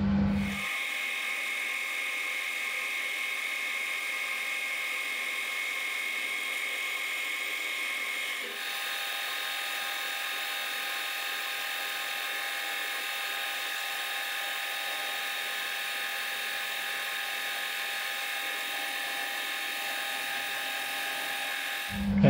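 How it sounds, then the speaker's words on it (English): A drill boring a 5mm hole through a metal die holder for a floating tailstock, a continuous high steady whine that shifts slightly in tone midway and runs unbroken for over twenty seconds. "I'm going to punch a 5mm hole down through the top and the bottom."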